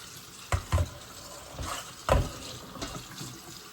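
Cold tap water pours over boiled macaroni noodles being rinsed, a steady quiet splashing with a few sharper knocks and clatters of the pot or strainer.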